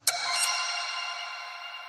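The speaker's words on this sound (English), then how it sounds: "when you mix that with the bell, you get this kind of glass sound." A sustained, shimmering tone of organ mixed with bell, with a bright bell-like attack, glassy and ringing, holding steadily for about two seconds before cutting off.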